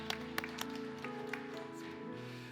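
A church congregation applauds during a Sunday worship service, a brief burst of scattered clapping that thins out quickly under a soft sustained tonal background.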